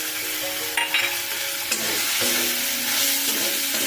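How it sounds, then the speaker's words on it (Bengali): Ground spices of salt, turmeric, Kashmiri chili powder and cumin stir-fried with a splash of water for doi potol, a loud close sizzle with repeated scraping strokes of a spatula in the pan. "ভালো করে মশলাটাকে আমি কষিয়ে নেব"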